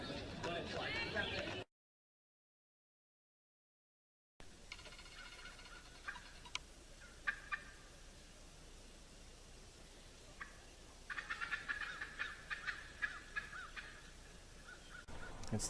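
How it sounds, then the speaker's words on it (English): Wild turkeys roosting in trees at the edge of a clear cut at sunrise give calls and gobbles, faint and distant in quiet morning air, in scattered bursts, with a few moments of human talk at the start. "There's a group of turkeys that have been roosting in the trees just out in front of the clear cut, and they start flying down one by one."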